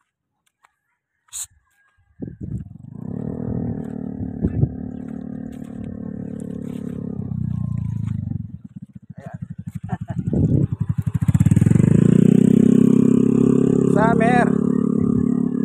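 A motorcycle or motor tricycle engine starts up nearby and runs steadily, then grows louder and rougher as it passes close by. People talk over it.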